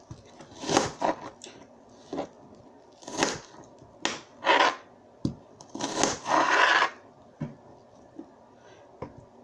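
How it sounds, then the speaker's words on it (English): A knife chops through kale on a cutting board in a home kitchen, giving a run of irregular, close, crisp cuts in several separate bursts with short pauses between them. "keep on chopping"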